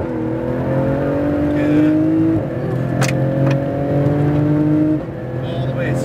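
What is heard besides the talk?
sports car engine accelerating at full power on track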